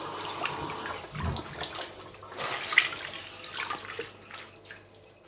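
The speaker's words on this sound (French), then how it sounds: "Et je mouille mon torchon" A cloth tea towel is soaked under a running kitchen tap while making sourdough bread, giving a soft, steady splash of water close by with no talking.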